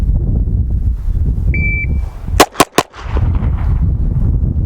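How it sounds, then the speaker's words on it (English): Three sharp pistol shots from an S&W M&P 2.0, fired two-handed from low ready, crack in quick succession right after a short electronic beep, loud and close against a steady outdoor range background. "2 hand shooting, low ready, 3 rounds, 2 seconds."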